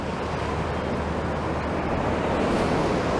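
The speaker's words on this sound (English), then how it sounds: "listen to the sea and watch the sea as we go" Sea waves breaking against the sea wall on Blackpool promenade as the tide comes in over the lower walk, a continuous loud roaring wash with gusty wind noise throughout.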